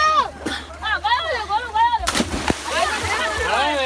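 Water gushing and splashing from a village tube well, with sharp slaps and splashes between bursts of excited talking and shouting.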